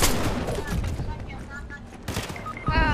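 Gunfire bursts from shooting in Fortnite Chapter 5 Season 2, a few rapid volleys at moderate loudness mixed with game sounds and overlapping voices of players chatting.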